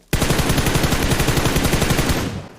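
Rapid automatic gunfire from a video game battle, one loud continuous burst of tightly spaced shots lasting over two seconds before it cuts off, close and dominant with no voices.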